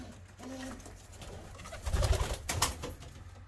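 Racing pigeons coo softly in a loft, a few low throaty calls nearby alongside wing flutters and shuffling movement.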